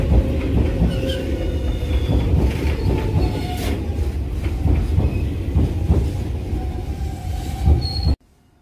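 A train approaches Ashikagashi Station in Japan, rumbling steadily along the rails with clacking wheels and faint squeals. No one speaks, and the sound cuts off abruptly at the end.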